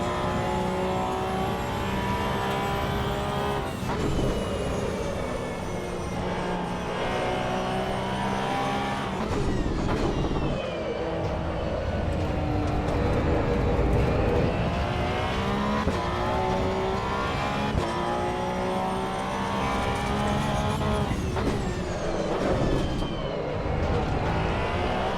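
A Porsche GT3 Cup car laps Oulton Park in the Assetto Corsa EVO racing game, its engine note running loud and continuous throughout, climbing through revs and dropping sharply at repeated gear changes and braking points.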